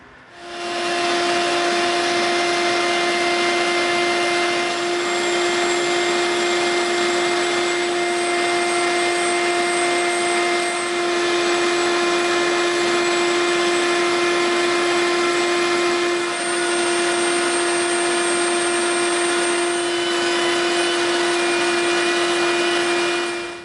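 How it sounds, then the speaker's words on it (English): A shop vacuum runs with a steady, loud whine beside a Dremel rotary tool cutting EVA foam, its high-pitched buzz continuous throughout with no talking. "we're going to do our dremeling right in front of our shop vac so it sucks most of this up"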